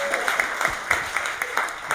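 Scattered clapping from a talent show audience, individual claps standing out in an uneven rhythm over a murmur of voices.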